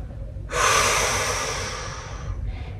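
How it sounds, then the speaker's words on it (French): A single deep, drawn-out breath during a yoga session, a long airy rush that swells quickly, then slowly fades over about two seconds, close and fairly quiet, with no talk. "et venir respirer profondément"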